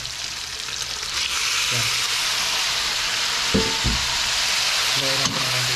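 Squid and pork adobo with soy sauce and vinegar sizzles steadily in a frying pan, with brief stirring scrapes breaking through the bubbling; a voice speaks once near the start.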